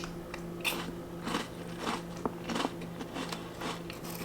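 Someone bites and chews Cheerful Crackers butter cookies close to the mic, giving a series of crisp, crackly crunches at a steady chewing rhythm over a faint, constant background hum.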